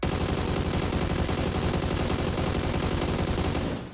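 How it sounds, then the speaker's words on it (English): Automatic fire from an AUG rifle in the video game PUBG, a continuous rapid burst of gunshots at full loudness for nearly four seconds before cutting off abruptly. "AUG, you could hit every single bullet on the target, and having no attachments at all"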